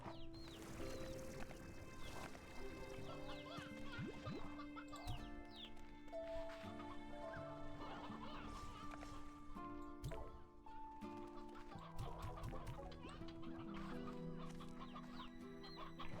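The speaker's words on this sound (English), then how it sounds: "We were grabbing briar hens and painted hens." Hens cluck repeatedly in Slime Rancher 2, several birds overlapping in busy, chattering bursts over a layered game soundscape of tones and chimes.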